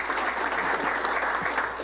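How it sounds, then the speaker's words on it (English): Dense, steady applause from a crowd at a political campaign kickoff in Spokane, continuous clapping throughout at an even, moderate loudness. "He deserves your applause,"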